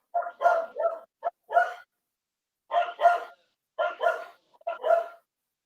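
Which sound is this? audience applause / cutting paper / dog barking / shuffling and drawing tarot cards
dog barking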